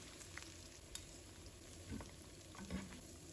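Pork ribs deep-frying in hot oil give a quiet, continuous sizzle with a few small pops and crackles close by.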